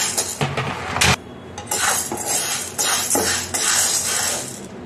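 Jowar (sorghum) grains dry-roasting in a pan, stirred with a utensil so the grains rattle and scrape against the metal in repeated loud bursts, close up, with no talk.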